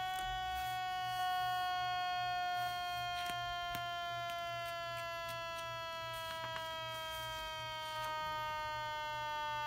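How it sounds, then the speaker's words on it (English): An Elenco Electronic Playground 130 kit siren with a 470 microfarad capacitor winds down slowly, a steady electronic tone that sinks gradually in pitch, with a few faint clicks and no voices. "I'm not going to wait for the siren to wind down completely"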